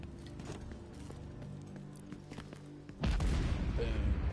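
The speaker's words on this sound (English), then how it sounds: "Explosion." A sudden loud boom in a video game lands about three seconds in after a quieter stretch of rumbling ambience and clicks, then carries on as a broad, sustained roar.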